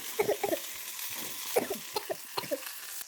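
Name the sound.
dried chillies frying in a pan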